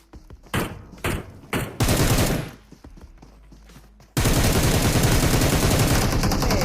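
Rapid bursts of gunfire from a video game, several short volleys followed by a loud, sustained stretch of continuous shooting.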